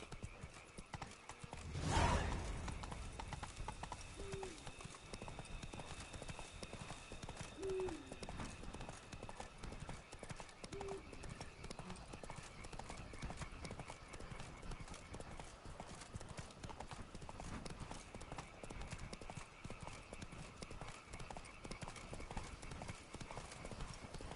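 Roach, the horse in Witcher 3, gallops with quick rhythmic hoof clip-clops that run steadily throughout, a brief whinny near the start and a few short voiced calls over the hoofbeats.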